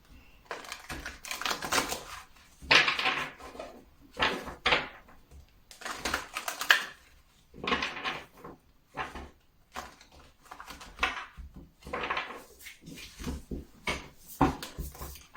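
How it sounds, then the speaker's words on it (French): Tarot cards shuffled by hand, giving repeated close riffling and slapping bursts in an uneven rhythm across the whole stretch, fairly loud, with no voices. "vu comment je brasse les cartes"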